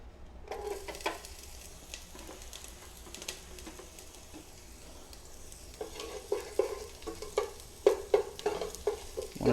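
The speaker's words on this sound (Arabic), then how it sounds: "ذوبت قليلا من الشحم، ثم نضيف البصل" Onions sizzling in melted fat in a pan for a meat and rice dish, a soft steady frying hiss with occasional stirring scrapes growing busier toward the end.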